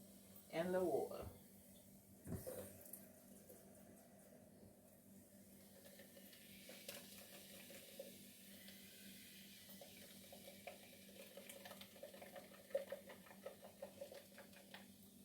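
Water poured during cleaning with a rag and baking soda: a short splashing burst near the start, then a low, steady trickle and faint clatter under quiet background voices.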